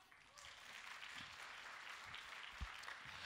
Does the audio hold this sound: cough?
no